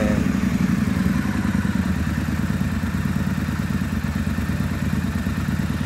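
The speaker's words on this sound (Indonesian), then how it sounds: "kita akan coba nih untuk nyalain mesinnya, dengerin suaranya" A motorcycle engine with an aftermarket exhaust runs steadily with a deep, throaty rumble, idling evenly and close by for several seconds without any talk.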